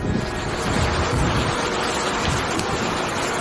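Steady, dense rain falling outdoors in Burundi, a continuous broadband hiss with no pauses and no voices.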